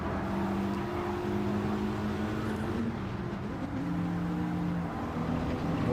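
Dodge Viper race car engine in Gran Turismo 7 drones steadily at a fairly quiet level, holding a sustained tone with slight pitch shifts as it runs through a race.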